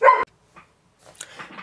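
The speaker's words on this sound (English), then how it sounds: "the dog was barking at nothing" A dog barks once, loud and close, with a few fainter yips and whimpers following in an otherwise quiet room where an instant camera is being repaired.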